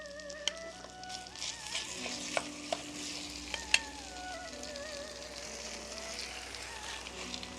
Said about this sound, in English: I love this noise. Means that it is cooking. Sizzling noise.